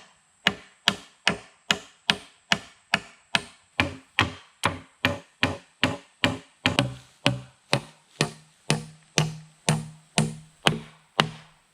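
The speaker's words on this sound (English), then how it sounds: "It's been a while since I swung a hammer." Steady hammer blows strike wood again and again at an even pace, about two per second, as an outhouse is built. The sharp, close impacts continue without talk.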